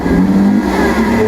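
Lamborghini Aventador SVJ V12 engine firing up, a loud, steady low rumble that settles into a dense, continuous drone close by, with no talking.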